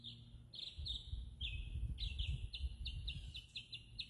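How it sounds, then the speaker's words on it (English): Songbirds chirp outdoors in a residential neighborhood, a series of short repeated high calls at moderate distance over a low rumble of background noise. "Y'all hear those birds?"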